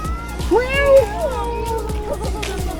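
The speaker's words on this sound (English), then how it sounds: "Oh, it's a kitty cat. That's a good looking kitty." A cat gives a couple of drawn-out meows, fairly close, over a faint ticking background and soft voices.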